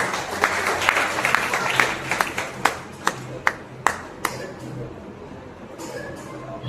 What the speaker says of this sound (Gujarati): મહેમાનોનું સ્વાગત થાય તો થોડીક તાળીથી વધાવી લેવા